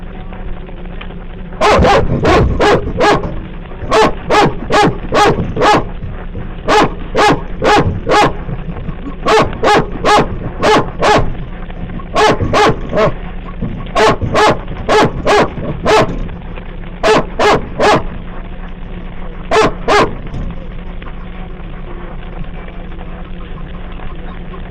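A police dog barking during an arrest on police dash cam footage: loud, sharp barks in rapid bursts of three to five, repeated for about twenty seconds over a low steady hum, with no talking.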